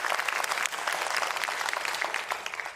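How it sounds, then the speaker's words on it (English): An audience at a public event applauds, a dense, steady clapping from a sizeable crowd that holds for nearly three seconds, fairly near and moderately loud. "Let's give one more big round of applause to the Johns Hopkins Bloomberg Center for hosting this event."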